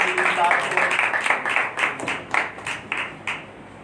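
Rhythmic clapping at a church meeting welcoming a pastor, a run of evenly spaced loud claps with voices mixed in underneath.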